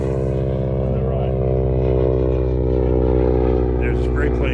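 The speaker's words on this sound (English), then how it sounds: "There's a spray plane going over" Loud, droning propeller engine of a crop-spraying plane passing low over a farm field, a steady pulsing hum that holds strong throughout, heard close and mostly on its own.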